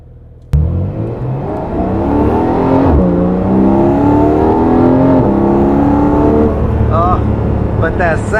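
A Porsche Boxster's 4-liter engine barks to life and revs high, its pitch climbing and holding in a loud, sustained wail, with a voice speaking over it briefly near the end.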